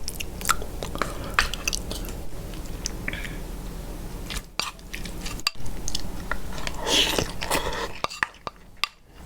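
Close, wet chewing of braised pork leg with rice, soft smacking bites and occasional clinks of cutlery against a dish, with a brief murmur of voice.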